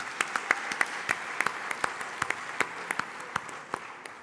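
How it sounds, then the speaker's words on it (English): Audience applause at a conference, a steady patter of scattered clapping heard from a distance, fairly faint and lasting a few seconds. "Please give him a round of applause."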